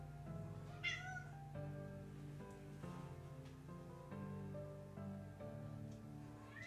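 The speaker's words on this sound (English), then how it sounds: "What do you want, cat?" A house cat meows once near the start, a short, clear cry over a low, steady background hum. Nobody talks.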